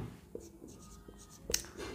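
Pen or chalk writing in a math lesson on population growth, with short scratchy strokes and taps, close and fairly quiet, with no talking over it.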